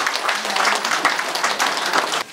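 An audience at a community honouring ceremony in Ulleri claps together in a sustained round of applause, a dense patter of many hands that continues steadily before stopping abruptly.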